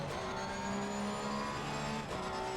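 A race car engine in Assetto Corsa Competizione drones steadily with held tonal pitches and a slight dip and recovery, loud and continuous with no talk.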